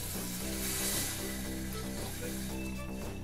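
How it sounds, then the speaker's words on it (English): White wine sizzles and simmers in a hot pan after deglazing, a steady close hiss with bubbling, while a low hum runs underneath. "I'll deglaze with a little bit of white wine. Simmer that for a few minutes to burn off the alcohol"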